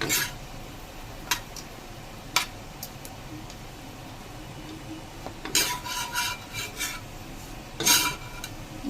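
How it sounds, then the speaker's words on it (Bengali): Breakfast food fries in a pan under a faint, steady sizzle, broken by scraping and clinking of a metal utensil against the pan in irregular bursts, close by, with no talking. "এই যে আমি একটু সময় নিয়ে ভাজতেছি"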